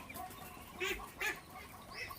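Ducklings on a Chinese duck farm give two or three short, faint peeps and calls amid quiet rustling background, with no one talking.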